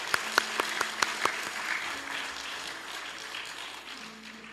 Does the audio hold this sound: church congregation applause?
yes